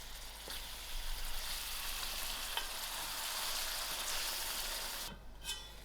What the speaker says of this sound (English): First I'll add in my canned diced tomatoes. I'll allow this to cook for another 5 minutes.